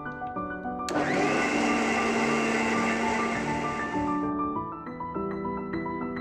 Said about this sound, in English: switch on the blender to let all the ingredients mix well.